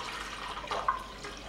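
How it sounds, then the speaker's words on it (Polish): A litre of cold water is poured into a pot holding spiced brine for curing pork neck, a brief soft splashing gurgle that rises and fades within about a second and a half, quiet and close. "Teraz dolewam litr zimnej wody"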